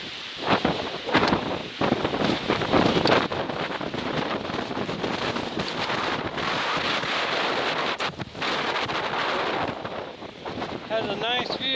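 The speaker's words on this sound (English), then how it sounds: "and it is windy." Strong wind on the Bigelow Mountains buffets the microphone in loud, gusty roars, with a brief voice and some rustling near the end.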